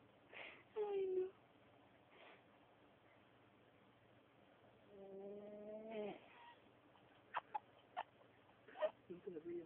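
Soft snoring rises and falls from a sleeping animal, faint and close, with a couple of clucking or bleating animal sounds and brief voices around it.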